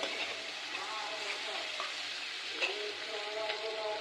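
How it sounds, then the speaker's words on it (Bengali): Chopped onions fry in hot oil in a pan for a shrimp and kohlrabi curry, a steady close sizzle lasting throughout, with faint clinks and stirring scrapes now and then. "পেঁয়াজটাকে যতক্ষণ না পর্যন্ত নরম হচ্ছে আমি ভেজে নিব"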